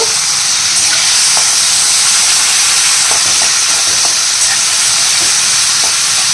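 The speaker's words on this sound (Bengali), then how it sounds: "এবার একটু নাড়াচাড়া করব" Prawns and bottle gourd frying in a pan as they are stirred, a steady bright sizzle with soft scraping strokes of the spoon scattered through, loud and close, with no talking.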